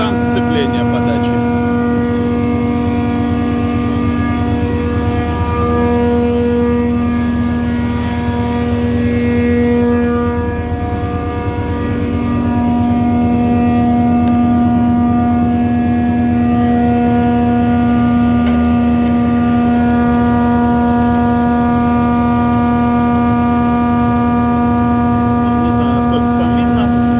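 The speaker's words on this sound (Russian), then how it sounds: "Чешский рейсмусик." A Czech Rojek MP415 thickness planer from 2011 runs steadily with a loud, constant motor hum and whine, strong tonal drone throughout with slight variation and no cutting impacts.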